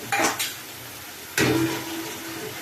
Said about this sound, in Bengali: পেঁয়াজ আর টমেটো বাটাটা আদা রসুন দিয়ে এটা একটু ভালো করে ভেজে নিয়ে তার মধ্যে আমি লঙ্কা গুঁড়ো হলুদ গুঁড়ো জিরে গুঁড়ো আর ধনে গুঁড়ো দিচ্ছে দিয়ে আবারও ভালো করে কষবো